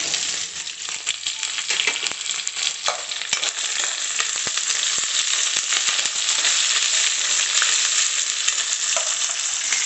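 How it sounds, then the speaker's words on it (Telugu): Onions and green chillies sizzle in a hot pan for poha, a dense, steady crackle with scattered pops and spits that runs close and continuous throughout. "ఇప్పుడు ఆనియన్స్ వేసేస్తున్నానండి"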